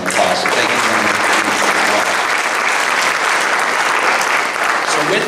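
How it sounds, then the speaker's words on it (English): Loud, sustained applause from an audience at a 2018 disaster preparedness meeting, honoring the fire department and CERT teams, steady dense clapping throughout without a break. "they deserve a huge round of applause"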